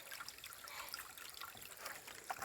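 A forest stream trickles softly and continuously, faint and low against a quiet woodland background, with small splashy bubbles throughout.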